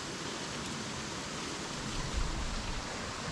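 Creek water flowing steadily in a constant broadband rush, even and unbroken, with no voices.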